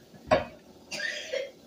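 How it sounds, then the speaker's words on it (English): A cooking pot is picked up in a home kitchen for breakfast: a sharp metallic clank, then a brief scraping rattle of cookware, close and soft. "Let me get the pot."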